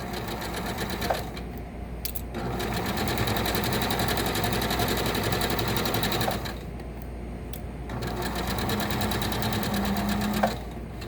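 A sewing machine stitches a seam and pivots at a corner: close, steady mechanical whirring runs broken by two brief pauses, with faint clicks at each stop and start.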